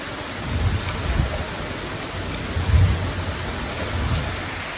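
Heavy rain falls during an emergency downpour that floods streets in Chiba, Japan, heard as a steady, dense broadband roar with a few low gusty swells and no voices.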